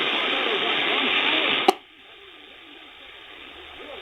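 Faint AM broadcast from WLW Cincinnati on 700 kHz, about 300 miles away, received on a radio: loud hiss with a buried signal, then a sharp click as noise reduction cuts in, leaving a quieter, thin murmur of distant programme audio.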